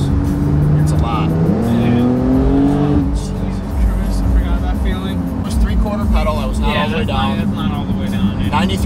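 Porsche 911 Turbo S tuned past 1000 horsepower on race gas, its engine rising steadily in pitch as it accelerates hard, loud and close, with wind and road roar and a voice talking over it.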